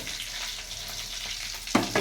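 Four pieces of food frying in a pan, with a steady close sizzle and a short clatter of utensils near the end.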